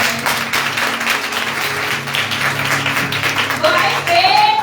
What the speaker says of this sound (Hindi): अपनी आशीषों के लिए तालियां सबों से बजाएं।